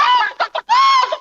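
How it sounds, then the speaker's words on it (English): Close, loud chicken clucking sounds off in quick, choppy bursts, one drawn-out cackling call followed by several short squawks, with no voices. "Sorry, that's chickens, man."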